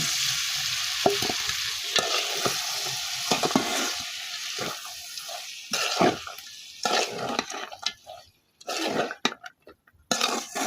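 Beans and potatoes frying in a pan in a Bangladeshi village kitchen, stirred with a spatula: steady sizzling with scraping strokes and a few clanks, broken by brief quiet gaps near the end.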